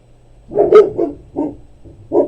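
A dog barks nearby: a sharp bark, then a few softer yips and woofs in an uneven rhythm, loud against a quiet room.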